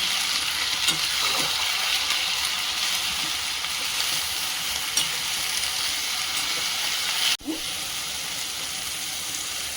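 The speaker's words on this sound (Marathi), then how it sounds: "छान मिक्स करायचं। आणखी मग वाटलेली मेथीची भाजी टाकायची।" Fenugreek greens are stirred and fried in a pan with a steady, close sizzle, light scraping strokes throughout and one brief knock near the end.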